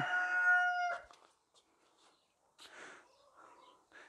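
A rooster crows loudly near a garden of bonsai trees, one long harmonic call lasting about a second, followed by quieter rustling and faint scattered sounds.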